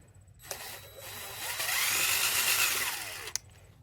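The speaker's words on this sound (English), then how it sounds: "now is when you're going to need your drill with the sandpaper" Drill spinning a sandpaper pad across a BMW 1 Series headlight during a 3M kit restoration, a whirring run of a few seconds whose pitch rises and dips slightly as it presses, bracketed by soft clicks.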